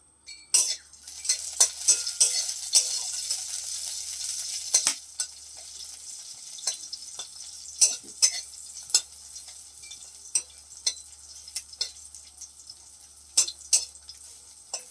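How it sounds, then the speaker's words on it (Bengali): Dried red chillies fry in oil in a pan, a soft steady sizzle punctuated by sharp metallic clinks and scrapes of a spatula stirring, loudest early and then continuing more sparsely. "তার জন্য আমি শুকনো লঙ্কা ভেজে নিচ্ছি"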